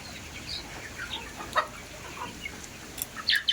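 Backyard hens, some sick with fowl pox, give scattered soft clucks and brief squawks, a few close but mostly faint over a quiet hiss.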